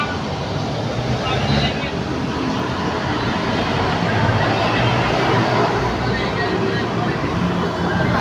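Highway traffic makes a steady, loud, continuous roar and rumble of passing vehicles with no break.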